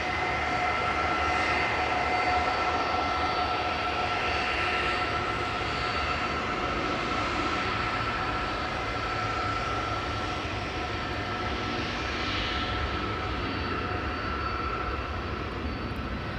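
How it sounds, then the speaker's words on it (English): An all-white Embraer 175 airliner taking off at Amsterdam Schiphol gives a steady, moderately distant jet roar with a whining engine tone, holding even throughout with no talking. "An all-white ghost airplane or wedding dress livery airplane. The Embraer 175"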